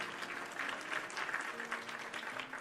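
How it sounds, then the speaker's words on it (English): A crowd claps steadily for a few seconds, a dense patter of applause with no one speaking over it. "thanks for the applause."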